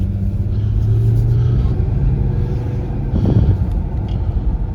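A 2001 Mercedes-Benz E320 W210 sedan on a test drive, heard from inside as a steady low engine and road rumble that swells slightly mid-way, with no talking.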